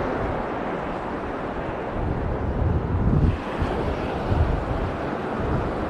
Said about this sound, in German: Und da sieht man, was für einen Wind man heute hat.